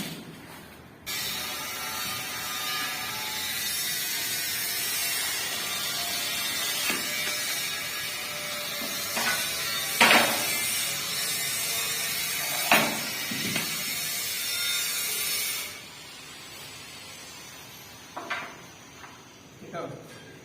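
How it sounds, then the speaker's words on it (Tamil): Glass cutter scoring and snapping ceramic tile, a continuous close scratching hiss as the wheel runs along the marked line, followed by a few sharp clicks and snaps; a person talks throughout. "இந்த கிளாஸ் கட்டர் வாங்கினா உங்களுக்கு ஈஸியா கட் பண்ணலாம்."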